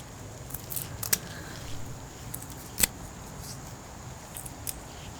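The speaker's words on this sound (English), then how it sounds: "So I'm going to cut this one as too. well." Garden shears snipping through a cut-flower stem, a few crisp, quiet clicks spread across a faint outdoor background, with one sharper snap standing out.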